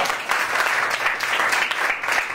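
An audience at a Christian worship gathering claps loudly and continuously, a dense, close wash of applause lasting a couple of seconds with no voices over it.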